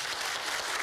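Audience applause during a televised Norwegian political debate on right-wing populism in Europe, a broad steady wash of many hands clapping at a moderate distance, filling the whole moment without talk.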